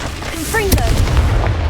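A Confringo spell explodes in the game Hogwarts Legacy with a short sharp boom and crackle, preceded by brief whooshing tones and followed by a rumbling tail.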